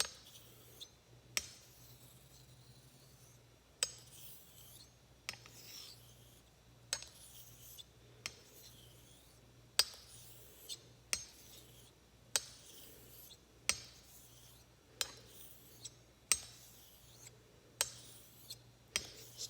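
A Filarmonica 13 Doble Temple straight razor is honed on an Arkansas stone with rolling X strokes. The strokes come as quiet, even, rhythmic rasping swipes, each starting with a faint tap, roughly every second and a half.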